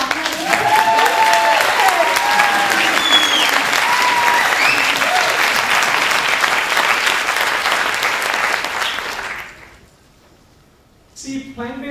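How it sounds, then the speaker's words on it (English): An audience at a plant-based nutrition talk applauds loudly and steadily for about nine seconds, with a few voices mixed into the clapping, before it quickly dies away to near silence. "can we have a big round of applause for Dr. Zara and Shirin Hassan for organizing?"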